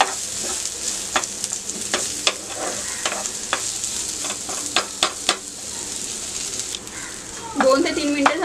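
Onion and garlic fry in a pan with a soft, steady sizzle, broken by sharp scraping clicks from stirring. Near the end there is a louder clatter.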